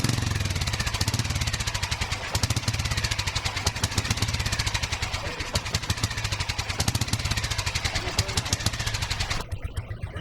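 A racing SS 300 motorcycle engine runs at a fast, steady chugging idle, each piston stroke distinct in a rapid hammering rhythm, loud and close, before cutting off abruptly near the end.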